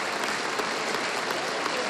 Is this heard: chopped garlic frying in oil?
no